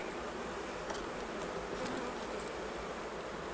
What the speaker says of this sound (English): Let's try and get rid of these bees then.